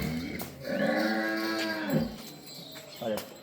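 A young bull lowing in a farm setting, one long drawn-out moo followed by a shorter second call, loud and close, with no talking over it.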